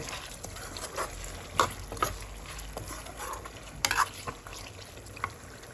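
Pork belly with red curry paste sizzles softly in a frying pan while a utensil stirs and scrapes, with occasional clinks against the pan.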